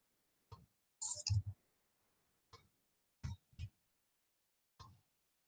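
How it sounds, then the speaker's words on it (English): Answers being typed on a computer keyboard for a math fact challenge: a handful of isolated, quiet clicks with gaps between them, close by in an otherwise silent room. "once you push start, you can start typing in the answers"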